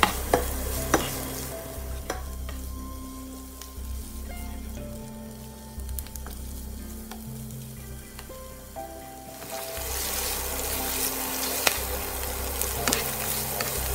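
Shallots sizzle in a pan as they are stir-fried, a steady close crackle with occasional scraping stirs, getting louder and brighter toward the end.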